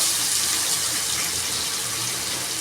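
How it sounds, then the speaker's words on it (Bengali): Chopped onions hit hot oil that already holds whole garam masala, giving a dense, even sizzling hiss that carries on without a break. "এবারে আমি এই তেলের মধ্যে পেঁয়াজ কুচিগুলো"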